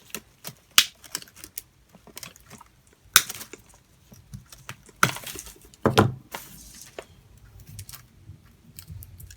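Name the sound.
wire cutters snipping wire on a wood pumpkin craft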